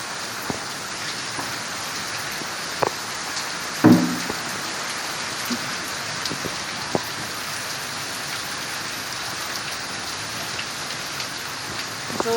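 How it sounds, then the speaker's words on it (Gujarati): Heavy monsoon rain pours steadily in rural Gujarat, a dense, even hiss with occasional sharper drips and taps close by, and no voices. "એટલો બધો વરસાદ પડી ગયો છે."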